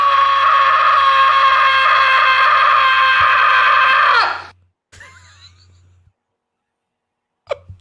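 A recorded person yelling, played back from headphones: a loud, sustained, strained scream lasting about four seconds that cuts off abruptly, followed by a few faint short bursts.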